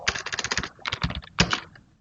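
A computer keyboard is typed on in quick bursts of clicking keystrokes, close and clear, with two short pauses between runs.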